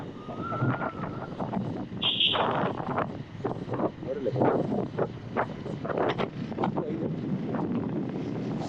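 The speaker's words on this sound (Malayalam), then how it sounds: "വണ്ടിയിൽ കാറ്റ്" Wind buffeting a microphone inside a moving vehicle, with rain approaching, makes a steady loud rush with gusty swells throughout. Voices talk over it.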